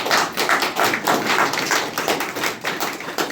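A church congregation claps in praise of the Lord, many hands striking in a dense, fairly rhythmic patter that stays loud and steady throughout, with no talking over it.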